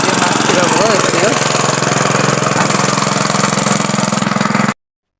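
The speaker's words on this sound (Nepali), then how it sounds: "ट्र्याक्टर चाहिँ स्टार्ट भइसकेको छ।" A tractor engine runs steadily while ploughing a field, a loud, close, continuous mechanical drone with a rough chugging texture that stops abruptly near the end.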